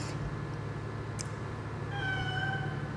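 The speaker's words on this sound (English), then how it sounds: "My cat is meowing in the background." A house cat meows faintly in the background, one drawn-out tonal meow near the end over a steady low indoor hum, with no talk.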